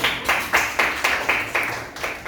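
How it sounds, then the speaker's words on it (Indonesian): Children in an Indonesian classroom clap together in a steady, rhythmic series of about nine loud group claps, evenly spaced and unaccompanied by talk. "Duduk tepuk tangan untuk Kak Delio."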